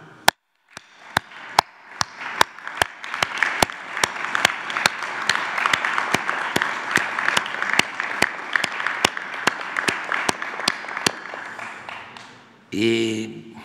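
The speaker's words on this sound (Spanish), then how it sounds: "Un aplauso." Audience applause at a Mexican presidential morning press conference honoring a silver medalist, a steady sustained clapping crowd lasting many seconds with sharp camera-flash-like clicks over it, ending with a brief voice.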